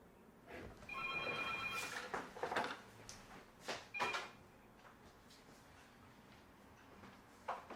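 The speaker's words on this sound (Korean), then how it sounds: "갑자기 전화기 걸려서" A telephone rings during a Korean church Bible lecture, with a repeated electronic ringing tone in short bursts over room noise, interrupting the talk before fading.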